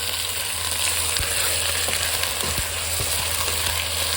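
Chicken, salt and lentils fry with browned onion in a pan for gobi gosht, giving a steady, even sizzle throughout, broken by a few faint scraping stirs and no voices.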